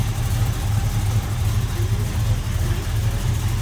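A 1974 Plymouth Road Runner with a 440 V8 idling steadily, a deep continuous low rumble with an even, smooth throb, close and loud, with no voices over it.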